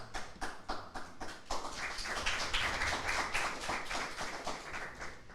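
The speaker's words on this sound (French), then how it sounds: "Julien, très applaudi dans cette arène." An audience in a TV game show arena claps, starting with a few rhythmic claps that swell into loud, dense applause lasting several seconds before easing slightly.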